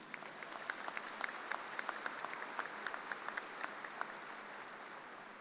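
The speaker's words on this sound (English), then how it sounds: "Please join me in a round of applause thanking these individuals." Applause at a business administration commencement ceremony, a steady, fairly distant crowd of hands clapping with scattered sharper claps standing out, sustained without talk.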